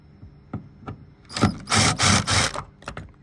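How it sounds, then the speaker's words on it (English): Screws being unscrewed with a T15 Torx bit from a sun visor inside a VY Commodore car, heard as a few short clicks followed by several close, rasping scrapes and squeaks of the turning screw. "they're a T15 Torx bit. All you got to do is unscrew them."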